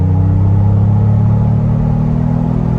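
A 2021 Ford Bronco Wildtrak with the 2.7-litre EcoBoost, in sport mode, is held at full throttle. Deep, steady engine rumble and low harmonic drone carry at constant loudness throughout, heard from close inside the cabin, with no talking.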